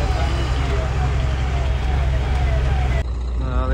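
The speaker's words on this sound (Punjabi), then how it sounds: "ਜੇ ਐਂਬੂਲੈਂਸ ਹੈ ਪੁਲਿਸ ਹੈ" Ambulance and police car sirens wail through busy traffic near a market, their rising tones layered over a loud engine rumble before cutting off abruptly near the end.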